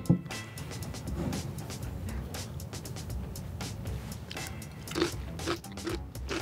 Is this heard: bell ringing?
no